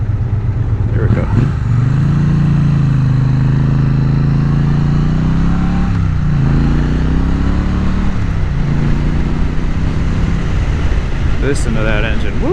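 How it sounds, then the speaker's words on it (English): A Triumph Bonneville motorcycle engine drones steadily and loudly close by, its pitch rising and falling slightly as it rides, with a voice briefly heard over it. "Listen to that engine, woo!"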